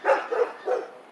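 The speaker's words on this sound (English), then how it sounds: "That's our neighbor's dog." A neighbor's dog named Bandit barks outdoors by a garden, three short separate barks at moderate distance, with no talking over them.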